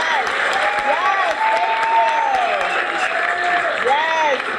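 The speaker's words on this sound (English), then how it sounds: "I just want us to all give a huge round of applause." A crowd at a luncheon gives a sustained round of applause, loud and continuous, with some cheering and voices mixed into the clapping.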